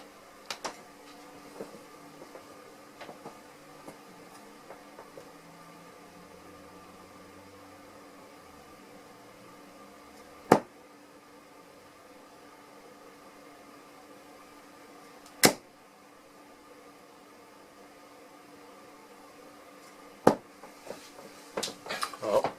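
Target Carrera Azzurri Cortex CX2 24g darts thrown at a dartboard, with a few sharp isolated thuds spaced several seconds apart over a quiet room background, followed by a small cluster of light clicks.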